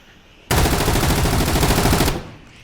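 A sustained burst of rapid automatic gunfire in the video game Rainbow Six, loud and close, lasting under two seconds in a steady rattling stream, with no voices.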